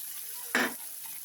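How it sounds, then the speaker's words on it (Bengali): Flattened rice (chira) is poured into hot oil in a pan while making poha, giving one short, soft burst of rustle and sizzle. "তেলের মধ্যে চিড়াটা আমি ঢেলে দিচ্ছি"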